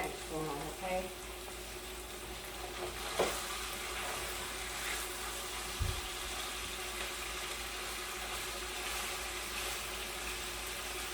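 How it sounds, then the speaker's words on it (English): Applewood bacon fries in a pan with a steady, soft sizzle throughout, quiet and continuous, with a couple of faint clinks. "we're going to fry our bacon up"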